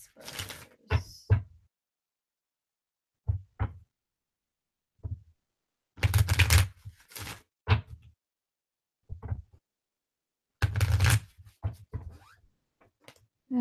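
Tarot cards being shuffled by hand come through in several short, papery riffling bursts with quiet pauses between them, close up and with no one talking.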